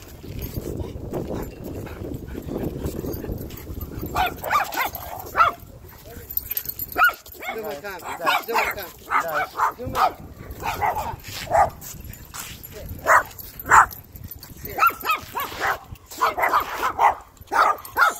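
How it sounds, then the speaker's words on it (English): Huskies and a Cane Corso bark and yip intermittently at a dog park, near and fairly loud, mixed with whimpers while people talk among them. "Look, cute dogs, huh?"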